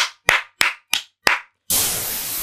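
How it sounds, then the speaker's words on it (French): Five sharp, evenly spaced hand claps ring out close and loud, each with a short decay, followed by a sudden wash of broadband noise that sounds like a burst of applause. "Un tonnerre d'applaudissements pour lui."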